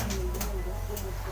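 Racing pigeons coo softly on a loft roof, a low repeated cooing heard close over a steady background murmur.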